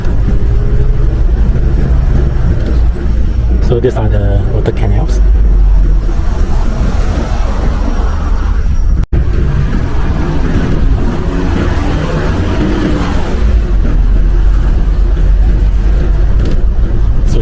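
A bus driving toward the airport in Brunei, with a loud, steady engine rumble and road noise from inside the moving vehicle, and someone talking over it.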